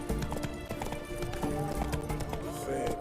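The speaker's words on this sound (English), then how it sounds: "Whoa there, Roach" Hooves of the horse Roach clip-clop in steady rhythm in the video game The Witcher 3: Wild Hunt, mixed with game music and ambience, while someone talks over the gameplay.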